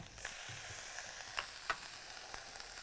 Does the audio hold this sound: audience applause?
no